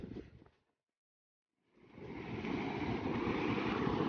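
Strong wind blows outdoors in the mountains between Manali and Trilokinath, a steady roaring gust that drops away briefly, then builds again into a loud continuous rush.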